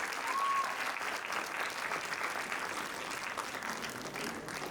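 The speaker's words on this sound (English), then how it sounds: "Can we have a huge round of applause for Sanjana, please?" Audience applause for an award-winning dental student from Sibar Institute of Dental Sciences, a steady, dense wash of clapping from a large crowd that holds evenly throughout.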